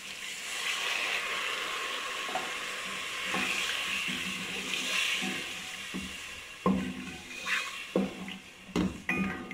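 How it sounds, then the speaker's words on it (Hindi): Water poured into a pan of okra masala sets off a broad hissing sizzle that swells and fades over several seconds, followed by a few sharp clatters and stirring knocks near the end. "अब मैं पानी डाल दूँ इसमें।"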